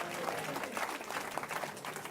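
A church congregation breaks into sustained applause to acclaim the Lord, a dense, even wash of many hands clapping at moderate distance, with faint voices mixed in.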